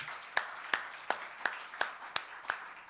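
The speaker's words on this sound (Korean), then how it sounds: "여러분 박수로 한번 환영해 주시기를 바랍니다" An audience at a theology graduate school lecture gives slow, sparse applause to welcome a professor, single claps landing in a loose even rhythm about three times a second, moderately distant with a faint murmur behind.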